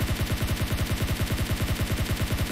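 Rapid automatic gunfire in the mobile battle royale game PUBG Mobile, a fast, evenly spaced burst of about twenty punchy shots that continues loud and unbroken throughout.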